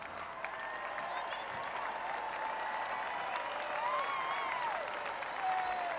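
Stadium crowd at the 14th Commonwealth Games opening ceremony applauding and cheering as the New Zealand team parades past, a broad continuous roar of clapping under a commentator's voice.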